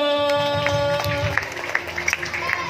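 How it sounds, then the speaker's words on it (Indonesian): Children at an Isra Mi'raj storytelling gathering clap in scattered, uneven bursts over a sustained musical tone. The claps thicken toward the end. "Tepuk tangan dulu."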